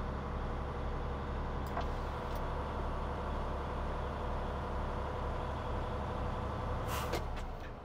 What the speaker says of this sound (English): Truck sneezes, governor is working.